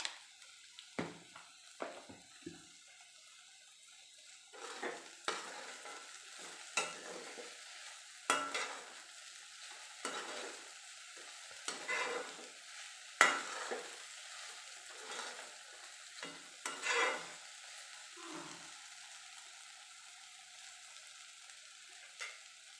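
Okra being fried and stirred for a vendakka and green gram thoran, quiet sizzle under repeated soft scraping strokes of a spoon in the pan, spaced every second or so.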